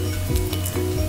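A tender coconut panna cotta mixture is stirred as it cools, giving quick rhythmic scraping strokes over a soft, steady liquid hiss, close by.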